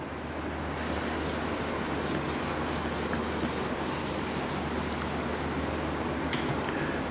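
A duster rubbing a diagram off a classroom board, a continuous close scrubbing friction with fast back-and-forth strokes, steady and fairly loud, with no talking.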